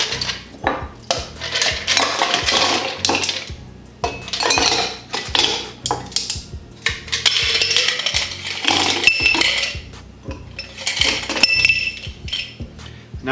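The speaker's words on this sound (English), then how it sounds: "Let's add some ice." Ice cubes drop into cocktail glasses holding rum, a run of bright clinks and clatters of ice on glass close by, coming in quick bursts with short pauses between.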